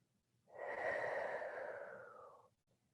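A single long, breathy exhale during a yoga flow, rising quickly and tapering off over about two seconds, close and fairly soft, with no talk over it.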